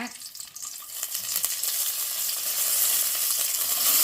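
Garlic hits hot oil in a pan for a Sheela fish kuzhambu, a fish curry, with a loud, bright sizzle that swells and stays steady throughout, joined by occasional stirring scrapes.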